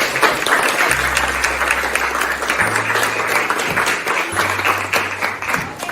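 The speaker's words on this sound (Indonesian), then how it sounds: "berikan tepuk tangan untuk kita semua" A classroom full of people claps steadily and loudly for several seconds, a dense continuous applause with no voices standing out.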